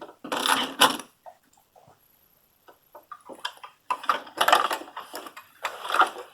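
An overlocker sews a seam on a knit sweater, its motor whirring and stitching in loud bursts separated by short quiet pauses while the fabric is repositioned.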